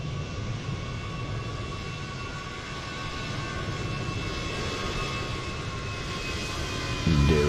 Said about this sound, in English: There is a plane, or it's departing.